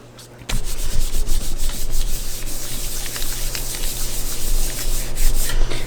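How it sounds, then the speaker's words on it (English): A hand firmly rubs a stencil down onto a tile, making a steady, close, dry rubbing and scraping that starts after a short pause and continues without a break. "I like to burnish everything down really good. Make sure it's stuck on the tile."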